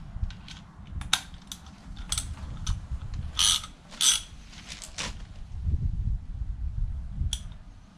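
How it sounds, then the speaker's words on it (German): Ratchet clicking as it tightens a 2019 RockShox Yari fork on a Canyon Torque AL mountain bike, several short bursts of close, sharp metallic clicks with brief pauses between them. "Und das machen wir dann mit der Ratsche."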